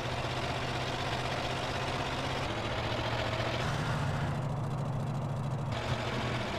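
An old van engine from Grand Theft Auto San Andreas, held together with a macrame hammock and running on old cooking oil, idles and rumbles with a steady, loud drone throughout.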